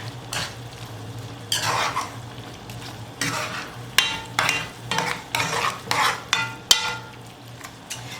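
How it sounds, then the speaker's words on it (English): A pot of rice being stirred with a seasoning envelope mixed in, a utensil scraping and clattering against the pot in repeated close strokes under a steady low hum, with no talk. "we're going to give this a mix."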